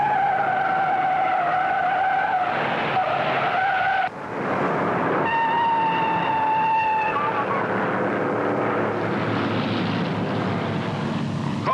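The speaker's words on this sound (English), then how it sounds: "Four cars slide all over the track, and only luck keeps more of them out of danger." Race cars in the 1960 Daytona 500 skid and slide across the track, with long sustained tire squeals and howling engines that rise and change pitch, briefly cutting out before resuming, with a narrator speaking over the action.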